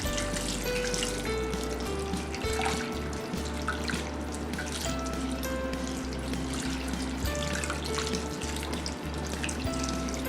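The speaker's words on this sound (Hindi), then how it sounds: "इसके ऊपर हम अब ठंडा पानी डालेंगे।" Cold water poured over drained boiled cauliflower florets in a home kitchen, a steady splashing trickle running the full length, close and fairly loud, with faint drips and no talking.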